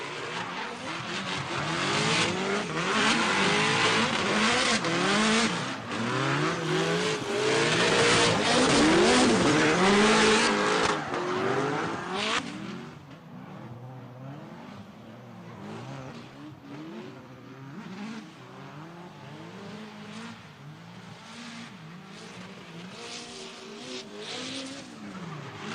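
A Mustang S197 leads a Toyota/Scion FRS BRZ in a pro-am drift battle, engines revving hard with wavering pitch and tires squealing loudly for about twelve seconds, then the noise drops to a quieter, more distant revving.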